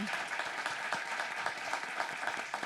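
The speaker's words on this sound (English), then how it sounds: "A huge round of applause one more time for all of our speakers this morning." An audience at a morning forum on the future of cannabis gives the speakers a steady round of applause, faint and distant, a continuous patter of many hands clapping.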